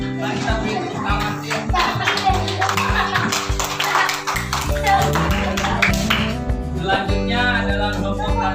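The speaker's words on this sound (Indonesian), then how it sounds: "Mari kita beri tepuk tangan." A classroom of children claps together at a school lesson, the clapping blended with a strong tonal musical background and some chatter, fairly loud and continuous throughout.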